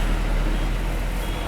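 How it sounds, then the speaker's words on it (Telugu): An Eicher bus passes on a highway, heard as a loud, steady broadband rumble of engine and road noise filling the whole moment without any voices. "ఐషర్ బస్సు"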